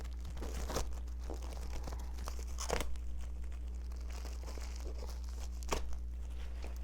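Plastic wrapping torn and crinkled off a cheap canvas, a few separate crackling rips spread out over a steady low hum.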